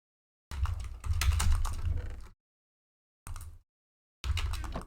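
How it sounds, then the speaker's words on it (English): Computer keyboard typing comes in three bursts of rapid clattering keystrokes, close and clear, separated by short silences. "Keyboard."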